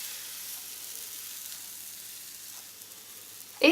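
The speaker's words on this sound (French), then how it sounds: "Donc ça cuit, attention, ça cuit très vite puisque comme ma pâte est fine" Thin crêpe batter sizzles softly and evenly in a frying pan, a faint steady hiss, ending in a brief louder clatter.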